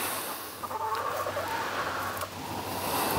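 Backyard chickens in a city coop cluck softly at middle distance over steady outdoor background noise, several short calls across a few seconds.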